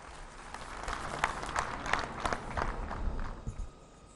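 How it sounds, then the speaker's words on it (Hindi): Applause greets the Prime Minister at an outdoor public meeting in Sissu, Lahaul Spiti, with a steady patter of clapping and several sharper bursts. It fades out near the end. "दोस्तों, जोरदार तालियों से स्वागत करें।"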